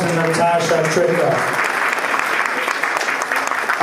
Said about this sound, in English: How about a big round of applause to Natasha Shrikant?